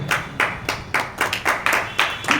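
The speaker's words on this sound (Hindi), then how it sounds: "जोरदार तालियां इस बात पे" An audience at a public gathering clapping in a clear, regular rhythm, about ten sharp loud claps in quick succession, close and without talk.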